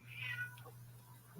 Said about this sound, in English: hear a cat